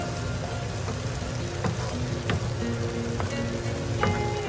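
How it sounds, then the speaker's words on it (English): Oil sizzles steadily in a pan as ginger garlic paste and turmeric fry for goat brain fry, a dense continuous crackle with a few sharper pops, close and alone. "that oil is being used to cook the ginger garlic paste and the turmeric"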